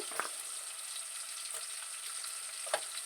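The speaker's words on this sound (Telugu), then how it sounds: "ఇందులోకి ఉల్లిపాయ ముక్కలు వేసేద్దాం. ఇవి బాగా ఫ్రై చేసుకోవాలండి." A soft, steady sizzle of onions frying in a pan, with a few light clinks or scrapes of stirring and no talking.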